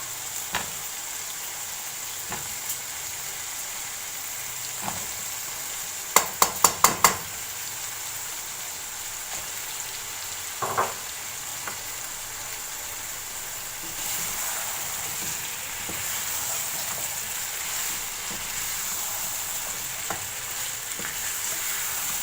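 Cauliflower and raw potatoes frying in masala for dhaba-style aloo gobi, a steady close sizzle throughout with a few sharp metallic clinks of a utensil against the pan partway through.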